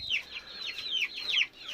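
Young chicks in a brooder peep in quick, high, falling chirps, a busy run of close, bright calls with a few faint clucks from the chickens around them.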